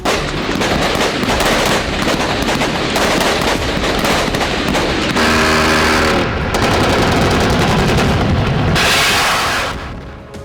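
Rapid automatic gunfire in wartime fighting between Ukraine and Russia, loud and continuous with dense bursts of shots and heavy blasts throughout.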